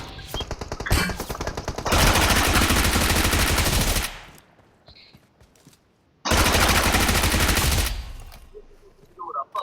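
Gunfire in the battle royale game BGMI on the Erangel map, with loud dense bursts of rapid shots, a pause with faint game sounds, then another long sustained burst, close and dominant.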